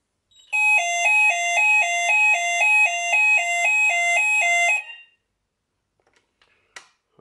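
A Hochiki ESP addressable fire alarm sounder rings after a call point test, a loud, steady two-tone electronic warble pulsing rapidly for about four seconds before cutting off, followed by a few faint clicks.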